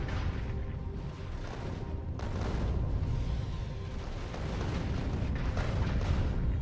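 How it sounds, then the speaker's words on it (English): Rocket launches in the video game Factorio rumble as a dense, continuous low roar with repeated deep booms and bursts swelling over it, fairly quiet overall, with no talking. "Oh, I hear rockets being launched."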